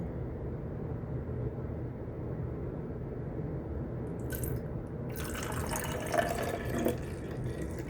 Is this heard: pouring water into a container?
yes